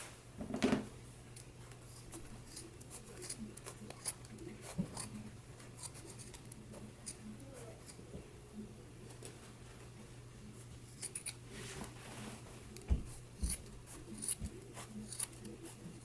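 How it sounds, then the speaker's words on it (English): Scissors snip through a sewn skirt seam right after the waistband is attached, trimming the allowance in faint, scattered clicks over a steady low hum, with no talking. "you want to go ahead and trim your seam."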